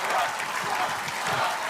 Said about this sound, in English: the crowd chanting Trump